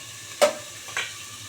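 Pointed gourd (potol) pieces fry in a pan over low gas, with a faint background sizzle broken by two quick, close stirring scrapes.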